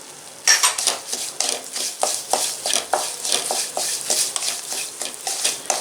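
Stirring and scraping in a pan as sesame powder is mixed with turmeric and asafoetida, a steady run of close, rhythmic utensil strokes with no talk.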